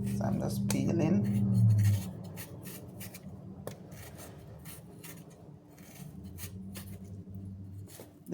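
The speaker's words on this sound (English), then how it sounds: "So I'm just peeling." Fruit is peeled for a peach, mango, apple and ginger juice, a run of scraping, rasping strokes with someone talking over the start and softer peeling sounds after.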